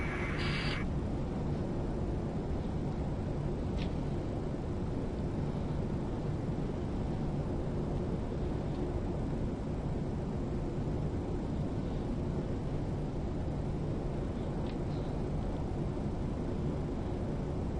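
An airliner drones with a steady, loud, broadband roar of engines and airflow in a flight simulator game, unbroken throughout with only faint clicks.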